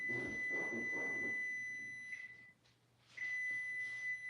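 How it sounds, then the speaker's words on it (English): A kitchen oven timer gives a steady, continuous electronic beep that stops briefly and then resumes, with a low appliance hum and a voice talking in the background. "That's the timer."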